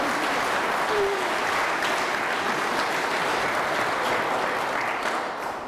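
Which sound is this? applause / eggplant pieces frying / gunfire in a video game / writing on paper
applause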